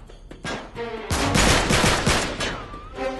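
Loud, close gunfire from Uncharted 3, with a few sharp single shots followed by a dense sustained volley of rapid bursts.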